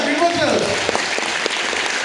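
An audience claps through a business presentation about resorts and sandalwood plantation projects, producing a steady wash of moderate applause while a voice talks over it.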